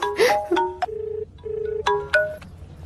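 A mobile phone rings in a scene from a Hindi-dubbed South Indian film, playing a close, clear electronic ringtone of short melodic beeping tones that repeat in a quick pattern, with no talking.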